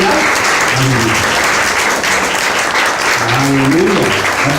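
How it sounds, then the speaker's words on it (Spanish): A church congregation applauds, with sustained, dense clapping from many hands filling the room while a voice speaks over it. "Den un aplauso al Señor."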